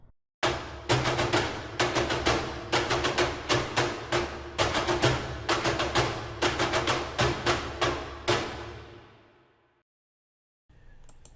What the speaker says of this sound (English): Then I used these ethnic woods to come up with a snare pattern.